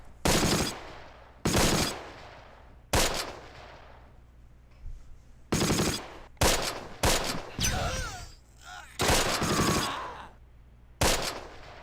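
Machine guns rattle in the Close Combat strategy game, loud separate bursts with short gaps between them, plus one longer rolling stretch of fire; a voice speaks faintly now and then.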